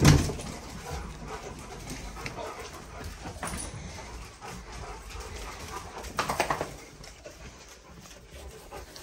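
Rottweilers whimper and pant close by before feeding, with scattered rustling and movement noises throughout.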